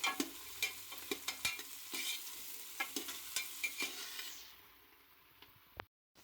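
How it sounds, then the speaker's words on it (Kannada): Whole spices such as cloves, cinnamon, cardamom and star anise fry with onion for chicken biryani, sizzling with repeated scraping stir strokes close by, then fading to a quieter hiss before a brief pause. "ಎಲ್ಲ ಸ್ಪೈಸಸ್ಸು ಈರುಳ್ಳಿ ಎಲ್ಲ ಹಾಕಿ ಫ್ರೈ ಮಾಡ್ತಾ ಇದ್ದೀವಿ"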